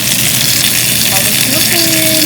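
Salmon with Italian herbs fries in a pan, a dense, loud, continuous sizzle and crackle filling the space up close, with faint background tones underneath.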